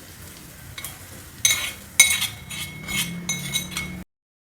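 Onion tempering stirred into chicken gravy in a pot: a spoon scrapes and clinks against the metal in uneven strokes, with faint sizzling underneath and no voices.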